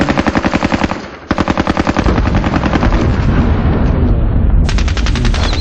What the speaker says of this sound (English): Now we go to light machine gun